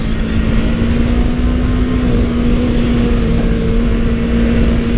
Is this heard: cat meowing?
no